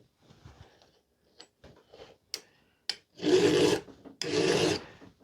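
A file is pushed over the rakers of a Stihl MS290 chainsaw chain set in a raker gauge, with a few light taps and scrapes followed by two loud, sustained rasping strokes.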